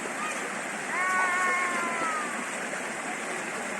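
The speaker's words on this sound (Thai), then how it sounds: "อันนี้เป็นน้ำตกชั้นที่หนึ่งนะครับ" The first tier of the Huai Nam Chang waterfall gives a steady, broad rush of falling water, loud and constant from start to finish, with faint voices briefly heard over it.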